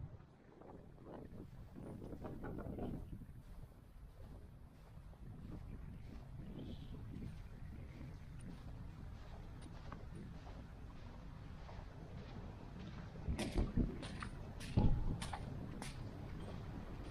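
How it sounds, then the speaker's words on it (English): Wind roars steadily through an Iowa blizzard, a continuous rushing buffet against the microphone with a few sharp gusts and clatters toward the end. "It's still snowing, the wind's still blowing like crazy."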